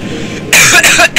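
A single sharp cough bursting out after a moment of quiet, followed by a quick second, smaller cough, close and loud.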